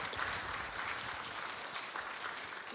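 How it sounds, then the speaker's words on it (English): An audience at an international conference on climate change resilience applauds, a soft, steady wash of clapping heard from a distance in a large hall. "Another round of applause for Dr. Bonfe."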